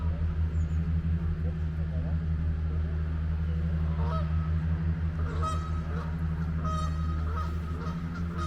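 Geese honking and squabbling outdoors on a university campus, with repeated harsh honks rising over a steady low engine-like drone throughout.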